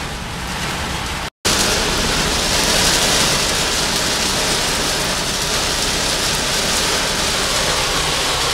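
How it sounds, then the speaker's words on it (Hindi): Heavy rain pours in a dense, loud, steady roar, broken by a very brief gap near the start before resuming at full force. "तेज़ बारिश है, तौबा तौबा तौबा।"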